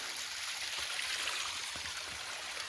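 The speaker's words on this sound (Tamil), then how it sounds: "வழி ஃபுல்லாக தண்ணி போயிட்டுருக்கு." Steady rushing water flowing along the Kadaladi path on Parvathamalai mountain fills the whole clip, a broad continuous hiss of flowing runoff with no voices.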